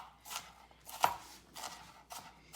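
An onion chopped fast with a knife on a board, a handful of quick, close, sharp cuts in an irregular burst, quiet otherwise with no talk.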